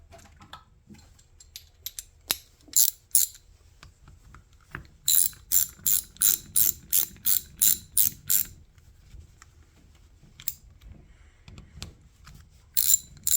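A ratchet wrench tightening large Allen bolts that join the two halves of a single-piston front brake caliper on a 1975 Honda GL1000 Gold Wing. It gives close, crisp clicks in short bursts, with one long even run of about a dozen strokes in the middle.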